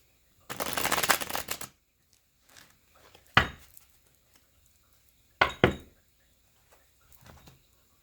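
Tarot cards are riffled in one long shuffle, followed by several short, sharp bursts of shuffling and card snaps with quiet pauses between.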